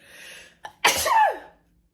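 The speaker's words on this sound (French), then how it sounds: "Attendez, je vais éternuer." A short intake of breath followed by one loud, close sneeze that trails off into silence.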